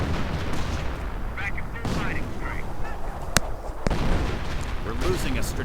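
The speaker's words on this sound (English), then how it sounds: "artillery strike right on the Knights Cross. Mortar keeps firing" Artillery strikes and steady mortar fire in a World War II strategy game battle, dense booming blasts and sharp cracks layered over constant battlefield rumble, with a few honk-like effects and a loud crack near the middle.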